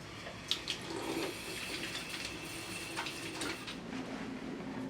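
A tap runs steadily while hands are washed at a sink, a soft continuous hiss of flowing water with small splashes, fairly faint and without speech.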